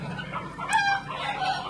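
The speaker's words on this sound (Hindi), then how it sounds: "बाकी आप मुर्गियों को देखिए कितना सारा है" Desi hens cluck and chatter in a village poultry farm shed, a busy flock heard at close range with a brief higher call rising over the steady murmur.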